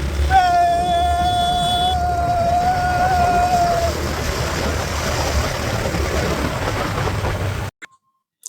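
A ferry crosses the Karnaphuli river in Chittagong, Bangladesh, with a steady, loud engine and water rumble throughout. A sustained whistling tone sounds over it in the first few seconds, then everything cuts off abruptly near the end.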